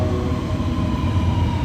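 A REM light-rail train on the Montreal network passes nearby with a loud, steady rumble and a high ringing whine throughout, with no one speaking.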